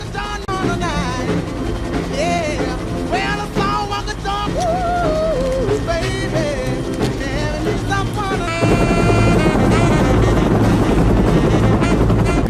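A helicopter flies in an action film scene, its rotor thumping loudly and continuously beneath music, growing heavier and louder partway through.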